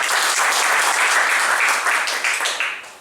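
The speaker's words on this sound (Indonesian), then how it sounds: "Tepuk tangan buat teman-teman ya." Audience applause at a company event, a steady broadband wash of clapping from a crowd that holds loud and even before tapering slightly at the end.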